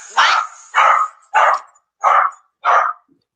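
Small dogs bark five times in sharp, evenly spaced yaps, loud and close, with nothing else heard between the barks.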